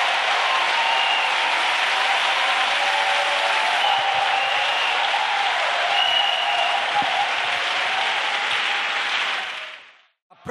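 A church congregation applauds for Jesus Christ in sustained, steady clapping that carries on loudly for about ten seconds before cutting off abruptly.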